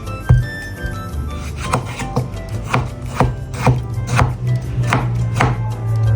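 Red peppers are julienned with a knife on a cutting board in a home kitchen. Close, crisp chopping taps fall in a steady rhythm, roughly two per second, with soft rubbing scrapes in between and no voices.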